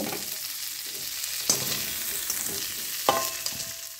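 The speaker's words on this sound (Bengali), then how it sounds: "একটু হালকা লালচে করে ভেজে নেব।" Cauliflower florets frying in hot mustard oil in a wok, a steady close crackling sizzle with a few sharper stirring clacks, no talk.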